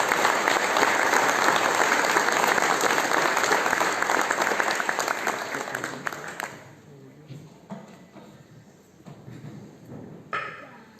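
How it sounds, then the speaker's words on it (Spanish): Audience applause at a Catholic book launch in Guayaquil, loud and dense for about six seconds, then fading to scattered claps and murmurs before a brief final flurry. "un aplauso a este gran hombre que hizo historia en nuestro Guayaquil Católico"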